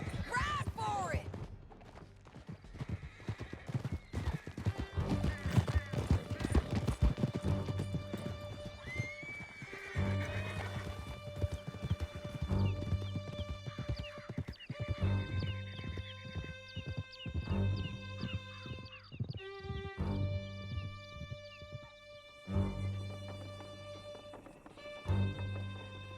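Horses gallop hard through a canyon chase in Red Dead Redemption 2, hooves clopping in a fast, steady rhythm up close, with whinnies and neighs breaking through over a loud bed of music and scattered thuds.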